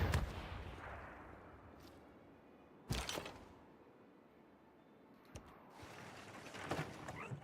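Artillery bombardment in Civilization VI, Nubia civilization late game: a few sharp booming impacts spaced several seconds apart over a low rumbling background, moderately distant and without voices.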